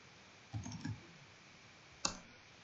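Quiet clicking of a computer keyboard while entering a YouTube search, a short cluster of soft keystrokes followed by one sharper click, close and isolated in a still room.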